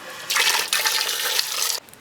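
Tap water gushes steadily into a pot holding beef bones and frozen tomatoes for a pressure-cooker stew, a close, bright rushing pour lasting under two seconds with a brief break partway.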